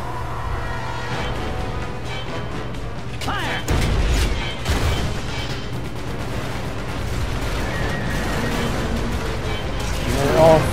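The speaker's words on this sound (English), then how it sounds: "They're all firing the cannons at Sin." Heavy booming blasts of cannon fire aimed at Sin in Final Fantasy X erupt over a rumbling game soundscape, with a couple of strong hits in the middle and voices mixed in.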